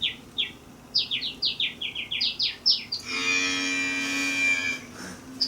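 Chirping bird calls give way to a single drawn-out, loud cow moo that holds steady for about two seconds before fading.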